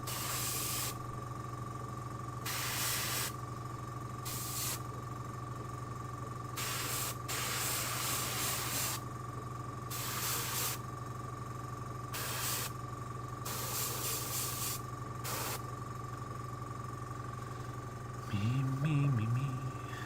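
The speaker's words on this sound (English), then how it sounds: "It starts spraying really well." Bursts of an airbrush spraying paint at a miniature painting station, short and longer hissing blasts separated by pauses over a steady background hum, with a faint voice near the end.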